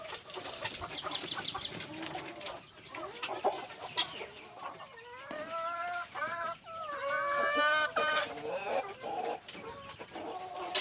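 BV380 chickens on a poultry farm clucking and calling, several birds close by, overlapping and continuous, with a few louder drawn-out calls toward the end.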